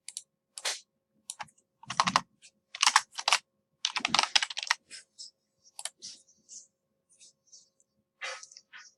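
Computer keyboard typing, with irregular bursts of close, crisp key clicks and short pauses between, heard alone.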